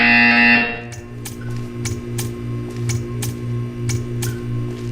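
A buzzer in the video game Portal 2 sounds briefly at the start, followed by a series of regular clicking or ticking pulses over a steady low electronic hum.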